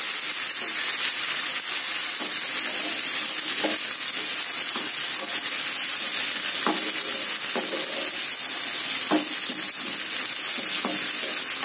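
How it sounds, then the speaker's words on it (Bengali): Tomatoes fry in a pan for Bengali musur dal with a dense, steady sizzle and hiss. Occasional small pops and crackles sound up close, loud and unbroken, with no talking. "এবার আমি টমেটো গুলো দিয়ে দিচ্ছি"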